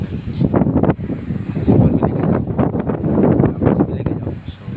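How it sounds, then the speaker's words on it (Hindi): Steady wind gusting during heavy monsoon rain in Mumbai, a continuous broadband rushing with buffeting against the microphone, loud and unbroken throughout. "देखिए बारिश से हवा आ रहा है, पूरा हवा चल रहा है"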